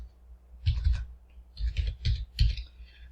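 Typing on a computer keyboard during setup of the Drake tax software, with a few quick clusters of close, crisp key clicks separated by short pauses.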